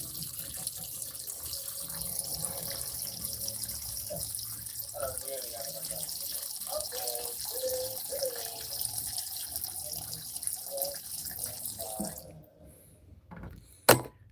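Tap water runs steadily into a pet's water dish, a continuous close hiss with voices talking over it, then cutting off near the end.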